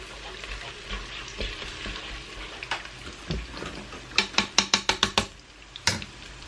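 Garlic lemon chicken frying in butter in a pan, a steady close sizzle with occasional stirring scrapes and a quick run of sharp utensil clicks near the end.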